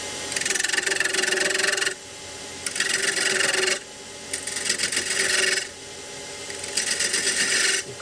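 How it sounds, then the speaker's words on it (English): Spindle gouge cutting wood on a lathe while turning a multi-axis candlestick holder, four loud bursts of rasping, scraping cut separated by brief pauses over the motor's hum. "Now I'm going to get me spindle gouge again."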